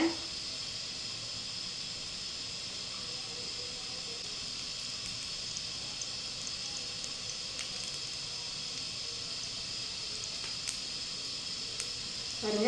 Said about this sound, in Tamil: சீரகம் ஒரு கால் ஸ்பூன் போடுறேங்க